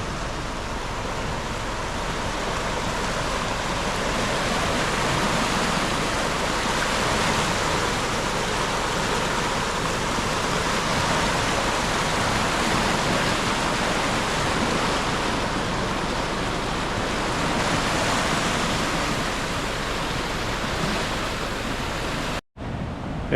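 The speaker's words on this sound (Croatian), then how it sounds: "I panjci pod vodom, pogledajte, voda je došla do mosta." Flooded river water rushes steadily at a bridge on the Bukovac, a loud, constant broadband roar that holds without a break for the whole stretch and cuts off abruptly at the end.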